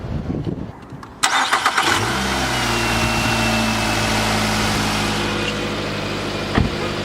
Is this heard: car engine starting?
yes